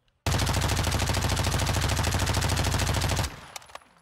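A Lachmann Sub (MP5) submachine gun in Modern Warfare 2 fires one long unbroken full-auto burst of rapid, even shots, loud and close, ending abruptly and followed by a few faint clicks and small pops.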